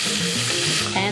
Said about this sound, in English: I've got just enough fat here so that I can put my onions into it.